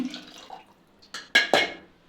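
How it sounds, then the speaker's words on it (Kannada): Water splashes into a rinsed frying pan for mutton biryani in a few quick bursts after a quieter stretch, close and fairly loud. "ಇವಾಗ ಬಾಣಲೆ ಸ್ವಲ್ಪ ತೊಳೆದ್ಬಿಟ್ಟು ಅದು ನೀರು ಹಾಕ್ತಾ ಇದ್ದೀನಿ"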